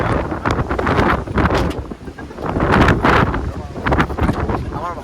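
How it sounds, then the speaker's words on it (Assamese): Strong gusts on a bridge at Parshuram Kund buffet the microphone in loud, uneven roaring waves that swell and ease over several seconds. "ইমান বতাহ নেকি?"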